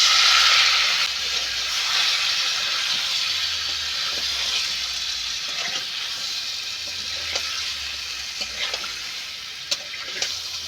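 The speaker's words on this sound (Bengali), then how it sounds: "কষানোর জন্য একটু আমি জল দিয়ে দেবো।" Water poured into a pan of fish curry masala with potatoes sets off a loud, hissing sizzle that gradually settles into a steady simmer, with a few light clinks of a spoon and no talking.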